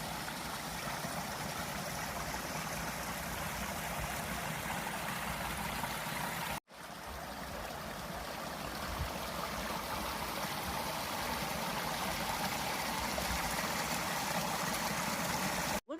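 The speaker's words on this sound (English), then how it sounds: "It looks like a waterfall." Waterfall and stream on Porters Creek Trail in the Great Smoky Mountains, a steady broadband rush of flowing water continuing without a break, fairly faint and even throughout.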